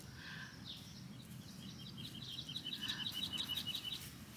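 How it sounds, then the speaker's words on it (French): Birds sing in a garden on a quiet afternoon, a series of quick, evenly spaced high chirps rising into a steady repeated phrase over faint background patter. "je vous prends avec le chant des oiseaux"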